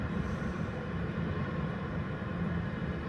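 A train rolls along tracks running behind a river during a snowstorm, giving a steady, moderately loud rumbling roar throughout with no distinct breaks.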